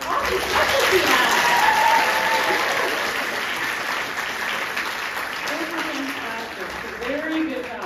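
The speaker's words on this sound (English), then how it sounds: "Can we give another round of applause for this awesome special piano?" Sustained audience applause at a middle school variety show for a special piano performance, a full, steady clapping crowd that swells early and then gradually eases off while staying dense throughout.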